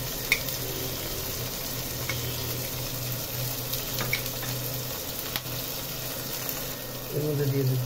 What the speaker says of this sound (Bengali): এখন আমি দিয়ে দিচ্ছি পেঁয়াজ বাটা, রসুন আর আদা বেটে রেখেছিলাম, এর সাথে দিয়ে দিচ্ছি জিরা বাটা।